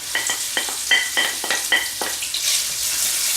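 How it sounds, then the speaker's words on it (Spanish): Baby eels (gulas) tossed into a frying pan with bacon hiss loudly up close, while a utensil knocks and scrapes against the pan in quick repeated strokes before the sizzle swells and steadies. "Y ahora añadimos las gulas."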